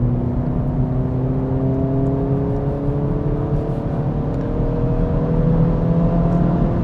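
Acura Integra Type S accelerating on a mountain road, its engine note rising steadily with a smooth, loud whir heard from inside the car, with no talking.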